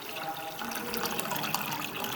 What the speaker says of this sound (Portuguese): A gente vai adicionar água até cobrir o fundo